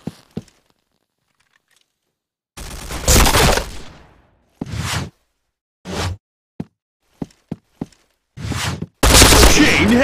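Gunfire from the video game Point Blank sounds in loud, close bursts: a long rattling volley, a few shorter ones, a quick series of single sharp cracks, then a final burst, with silent gaps between them.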